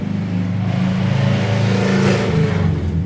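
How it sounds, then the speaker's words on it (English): A car engine revs hard, a loud, steady mid-pitched roar that swells briefly toward the middle and holds close by, with no voices over it. "Race car."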